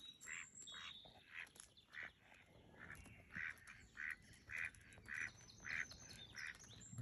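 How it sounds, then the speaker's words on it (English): Ducks quack in a regular series of about a dozen short nasal calls, faint and somewhat distant, over low outdoor background noise near water. "There's ducks in the area."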